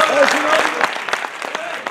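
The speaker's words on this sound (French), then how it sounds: "Simon, on peut applaudir Simon." An audience at a closing ceremony breaks into applause for Simon, dense clapping building and then thinning into scattered claps, with a voice speaking over the start.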